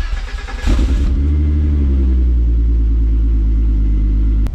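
A Volkswagen wagon with a turbocharged VR6 engine revs up hard and pulls under acceleration, a loud, close, deep rumbling drone that climbs and holds steady before a brief sharp crack near the end.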